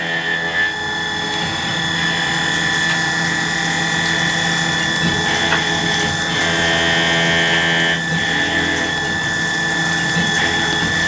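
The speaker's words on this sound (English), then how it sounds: "You cutting metal, you want to cut metal, you're going to get some noise with it." CNC milling machine on an HM 1000X table facing metal stock, a continuous close whine with steady high-pitched tones and gritty mechanical chatter, with no voices.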